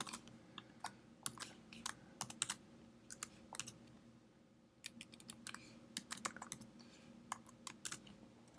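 Quick bursts of clicks as someone types on a computer keyboard while coding HTML, the keystrokes near and crisp in uneven runs with short pauses.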